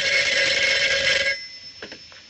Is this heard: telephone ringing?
yes